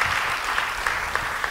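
A church congregation breaks into a short burst of applause during a sermon, dense and steady clapping from many hands, fairly close and loud, with no talking over it.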